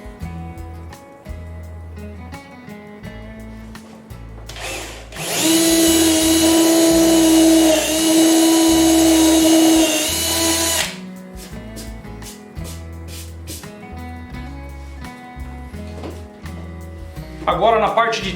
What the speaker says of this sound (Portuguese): eu vou fazer a furação com uma broca de 6 mm aqui, que é onde vai passar a fiação